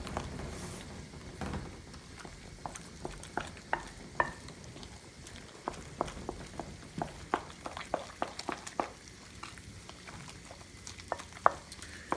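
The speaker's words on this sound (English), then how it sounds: "After I've mixed this together real well" A wooden spoon works through a potato pancake mixture of potatoes, garlic powder, eggs and flour in a bowl, giving faint, irregular scrapes and soft taps over about twelve seconds without speech.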